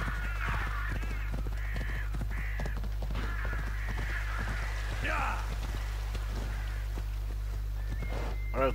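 A horse's hooves clip-clop in Assassin's Creed Odyssey, a regular run of light knocks beneath someone talking, with crow-like caws rising over them.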